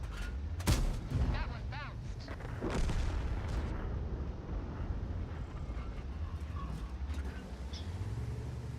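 Tank cannon shots fired from a Super Conqueror heavy tank in a video game, a few loud booming blasts early on over a steady rumbling engine bed, with speech mixed in.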